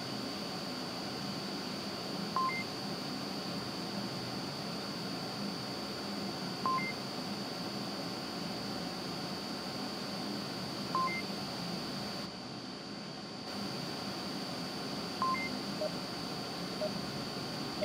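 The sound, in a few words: countdown timer beeps in the VR game Onward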